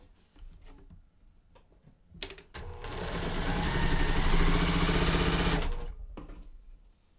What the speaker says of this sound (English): I'm gonna sew my 1/4 inch on this side